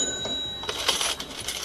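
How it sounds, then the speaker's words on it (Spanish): A cash register chimes with a bright bell ring and a jingle of coins, short and fairly quiet over a faint background hum. "tenemos un sonido que identifica cuando entra un nuevo suscriptor"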